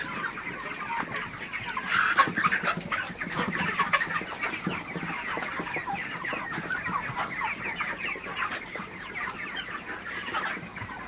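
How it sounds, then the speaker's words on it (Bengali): A flock of broiler chickens eating feed, clucking and murmuring continuously at a moderate distance, overlapping soft calls with scattered louder clucks. "ব্রয়লার মুরগিগুলা কিন্তু খুবই সুন্দরভাবে ফিডগুলা খাইতেছে"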